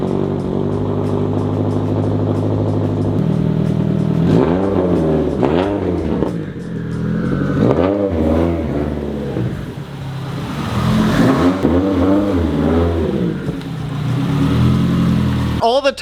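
A Subaru WRX engine runs steadily with several revs rising and falling, close by, while a voice talks intermittently over it.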